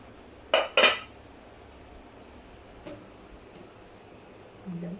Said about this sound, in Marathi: झाकण उघडून बघू